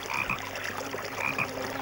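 A frog croaks in a pond with quick, close, repeated croaks in two short bursts over a steady outdoor background, and no one speaks.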